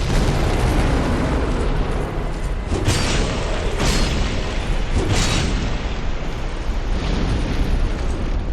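A fire attack bursts against a raised shield in Dark Souls 2, a dense, continuous roaring blast that stays loud throughout with a few sharper impacts.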